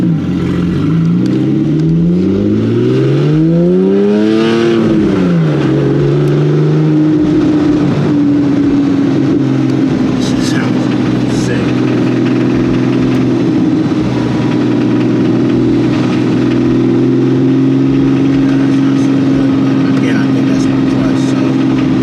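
Porsche 911 997.1 Carrera S flat-six fitted with an Fi exhaust, loud and close, revving up and dropping in a couple of sweeping pulls before settling into a steady raised-rpm drone.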